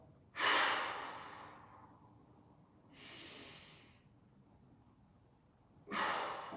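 Deep exhaling breaths during a guided mobility workout: three separate, close, breathy rushes of air, each fading out over about a second, with quiet pauses between them.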